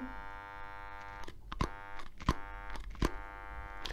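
A blender motor hums faintly with a strained electrical buzz while the faulty blade stays jammed and won't turn, broken by a few sharp clicks.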